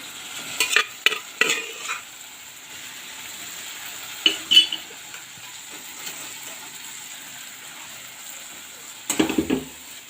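Boiled potatoes with chilli powder, turmeric and spices are stir-fried for ghugni. A soft, low sizzle runs underneath while a spatula scrapes and clatters against the pan in a few short bursts.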